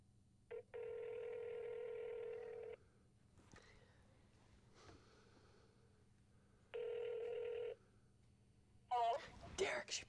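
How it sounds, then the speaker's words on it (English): A telephone on speakerphone rings out twice as long buzzing tones, separated by quiet rustling and faint whispering, before a voice answers near the end. "Let's give her a call. Put it on speakerphone."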